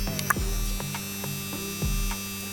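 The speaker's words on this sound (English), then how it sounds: "And getting a bit hot, we got built-in aircon." A built-in air conditioner hums steadily at a 24-hour fishing setup, a constant electrical drone with a few faint clicks and ticks over it.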